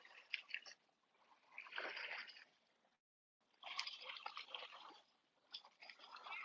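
Gentle water rippling and trickling in a calm outdoor spot, faint and soft in uneven bursts with a brief gap of silence.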